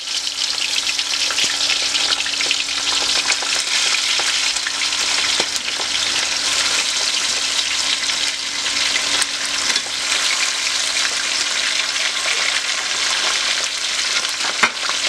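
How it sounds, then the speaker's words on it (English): Cod fish frying in hot oil gives a loud, steady sizzle and crackle that runs unbroken from start to finish, close by, with no voices. "my oil is hot and I'm about to start frying my fish"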